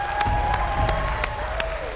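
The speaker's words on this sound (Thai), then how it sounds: "เอาขอเสียงปรบมือดังๆให้กับเชฟป้อมและเชฟเบลครับ" A studio audience on a Thai Iron Chef cooking competition show claps in a steady, dense burst of applause, loud and close, with faint voices mixed in.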